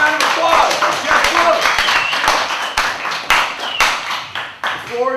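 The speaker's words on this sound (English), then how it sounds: "Big round of applause for Jeff" Audience clapping for a jiu-jitsu champion introduced in a seminar hall, dense and fairly loud with sharp individual claps standing out, and voices mixed in under it.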